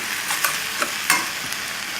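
Food being mixed and stirred in a pan while chicken, brown basmati rice and lentil stew cooks, with a steady low sizzle and a few soft scraping clicks of a utensil, close and without talk.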